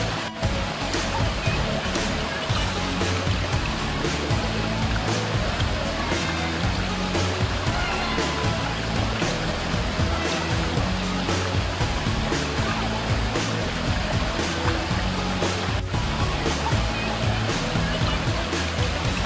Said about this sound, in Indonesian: Suara terjangan air dari atas yang mengalir deras